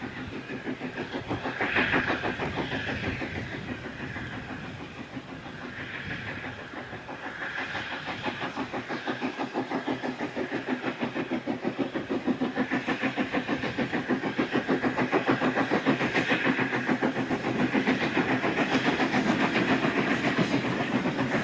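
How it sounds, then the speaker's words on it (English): A train works up a hill towards a purpose-built station on a preserved line, its engine beating in a steady repeating rhythm over a continuous rolling rumble and clatter that grows slightly louder. "A train is brought up the hill towards the purpose-built station."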